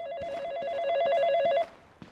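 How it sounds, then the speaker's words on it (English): A telephone in the GTA video game rings with a loud, fast trilling bell for about a second and a half, then cuts off into quiet room tone. "Is the phone ringing?"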